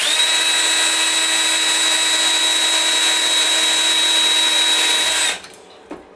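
A power drill runs steadily as its bit bores through an obstruction lodged in a gun barrel, a loud continuous whine for about five seconds that then cuts off abruptly into near silence.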